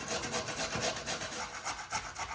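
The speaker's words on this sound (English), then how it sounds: "we're gonna use the coarse grater of a box grater, and we're gonna grate these like we're making hash browns" Russet potatoes are shredded on the coarse side of a box grater, giving close, steady rasping strokes in a quick back-and-forth rhythm with no talking.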